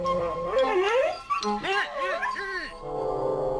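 A loose, untied dog yelps and whimpers in rising and falling cries, close and fairly loud, mixed with a person's voice.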